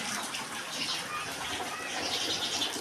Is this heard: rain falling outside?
yes